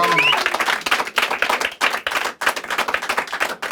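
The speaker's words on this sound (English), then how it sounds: "Another round of applause for Wilson Blackley, ladies and" An audience at a live comedy show claps and cheers in a quick, close burst of applause, with voices mixed into the crowd noise all the way through.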